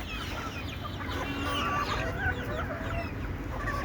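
Desi chickens on a rooftop keep up dense overlapping clucks and squawks, a busy flock close by with a low rumble beneath.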